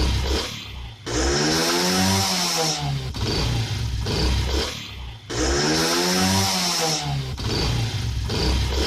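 A motorcycle engine with a newly fitted air filter runs loud and close, revving up in two long rising bursts with harsh buzzing and rapid pitch sweeps, dropping back to idle between them.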